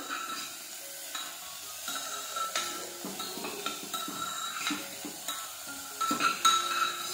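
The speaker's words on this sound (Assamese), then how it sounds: "এনেকৈ অকণমান লৰাই দিম।" Spoon stirring vegetable soup in a cooking pot, soft scraping and light clinks against the metal with a gentle simmering hiss underneath, close and fairly quiet.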